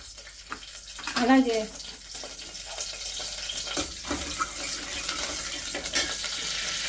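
Cashews frying in a spoonful of ghee in a pan for Telugu semiya payasam, a steady soft sizzle with stirring scrapes, a brief spoken word and a short voiced burst near the start.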